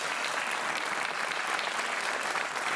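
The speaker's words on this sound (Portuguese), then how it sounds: "estas palmas agora não são para ti," A studio audience at the Portuguese TV game show Joker claps loudly and continuously, a dense, even wash of many hands that holds steady throughout.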